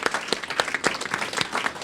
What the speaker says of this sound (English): One more round of applause for these gentlemen before I announce the winners.